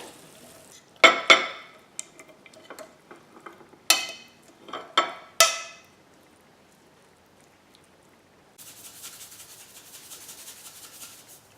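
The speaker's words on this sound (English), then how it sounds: "Give it a good stir." A turnip dish with vinegar stirred in a pan, bursts of scraping and clattering utensil strokes, then a pause and a faint steady sizzle toward the end.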